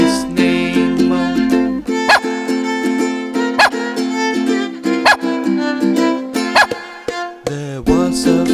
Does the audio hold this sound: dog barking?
yes